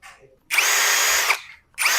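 An Ingco impact drill runs on metal in two bursts, a long steady high whine of almost a second followed by a short restart, loud and close with no talking.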